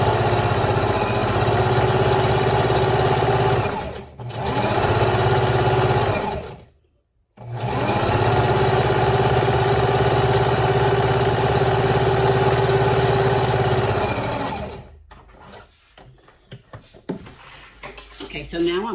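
A sewing machine on a zigzag stitch sews down the center of elastic for leotard or dance-costume spaghetti straps. It runs loud and close in long steady bursts with brief stops, then trails off into scattered handling noise.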